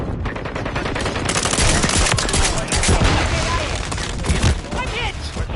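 Rapid automatic gunfire from Call of Duty Modern Warfare 3, dense bursts of shots and explosions filling the clip continuously at close range, with voices mixed underneath.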